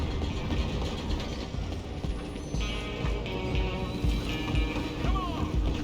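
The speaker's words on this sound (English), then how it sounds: "I'll stop the train." A train in a video game rumbling steadily with a low rolling clatter throughout, fairly loud and continuous, with faint screeches layered over it.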